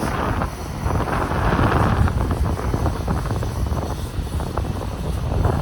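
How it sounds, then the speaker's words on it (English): Steady broadband industrial exhaust roar along an industrial street in Etobicoke, Toronto, continuous and moderately loud with wind buffeting the microphone and no voices. "listen to those sounds of the exhaust, industrial exhaust"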